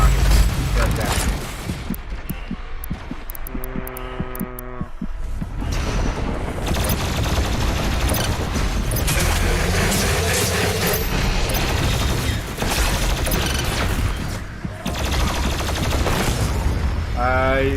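Homing rockets fire in the shooter Doom Eternal amid a dense, loud barrage of blasts, clanking mechanisms and rapid bursts that runs continuously, with a voice talking over the action.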